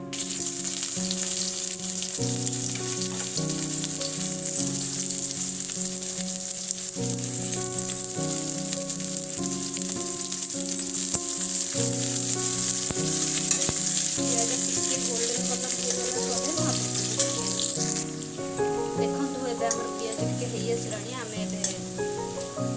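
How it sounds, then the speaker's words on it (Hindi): Chopped onion frying in a pan for pumpkin curry gives a steady, close sizzle with occasional stirring, heard throughout under background music. "तापर हमें प्याज पकेदबा"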